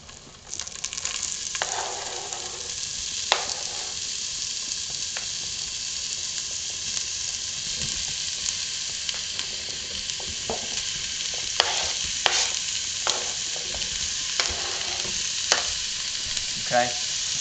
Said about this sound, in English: Okay, so now we're going to set this aside as well, and we're going to stir.